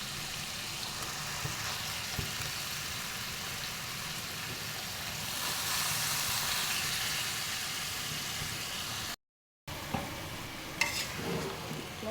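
Chicken meat sizzling in a pan while being stirred together with ground spice paste, a steady close frying hiss with scraping stir strokes, briefly cutting out before resuming.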